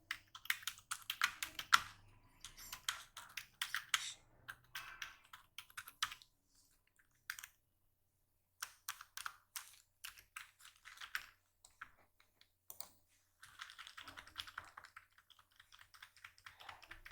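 Steady computer keyboard typing while writing HTML paragraphs for a web page, bursts of rapid key clicks separated by short pauses, close and clear with no talking.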